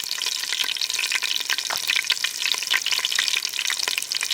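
Onions frying in a pan for a village-style chicken biryani make a loud, dense, continuous crackling sizzle with small pops throughout. No voices.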